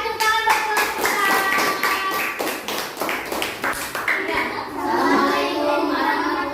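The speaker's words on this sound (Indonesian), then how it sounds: "silakan kakak tepuk tangan buat kelompok kita" Classroom of children applauding a presenting group, a burst of quick, rhythmic clapping that fades out as voices start talking.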